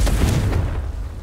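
A loud, deep explosion from the Confringo blasting spell in a Harry Potter video game booms at once, then fades into a rumbling tail over about a second.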